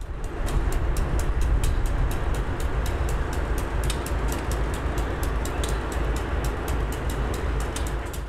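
Freight locomotives working Glenwood Yard, pulling a cut of five loaded limestone gondolas, give a steady, loud, close rumble with a continuous rolling roar and faint regular clicks throughout, with no talking.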